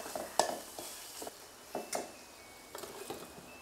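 Black masala and garam masala sautéing in a pan for mutton, with a few sharp stirring scrapes and clinks of a spoon against the metal over a faint sizzle.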